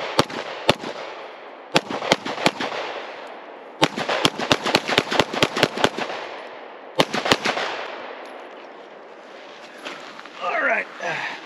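Inexpensive pistols fired through two magazines at a range, sharp loud shots in uneven bursts, some single and some in quick strings, with gaps between, then quieter handling noise and a voice speaking at the end.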